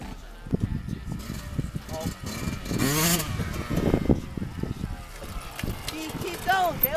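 A dirt bike engine revs and surges in short bursts as it is ridden outdoors, with two riders on it together, heard under excited shouting and talk from people nearby.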